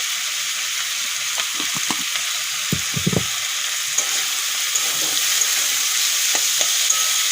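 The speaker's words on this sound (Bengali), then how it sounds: "এখন এই সব আলুর সঙ্গে মশলাগুলো ভালো করে কষিয়ে নেব" Potatoes sautéing in a pan with turmeric, chilli and coriander-cumin powder, a steady soft sizzle broken by scraping stirs from a spatula, no talking.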